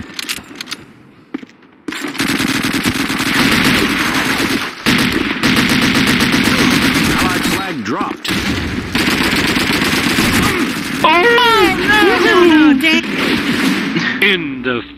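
Rapid rifle and machine gun bursts ring out in a North Africa outpost multiplayer match of Call of Duty 2 on PC, loud and near, with brief pauses and game voices and effects between volleys.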